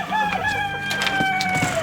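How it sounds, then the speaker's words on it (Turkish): Village-breed chickens in a mixed flock in a coop cluck and crow loudly and close up, in overlapping calls through the whole short stretch, with no talk. "Buradaki hayvanlarımız köy tavuğu cinslerinden."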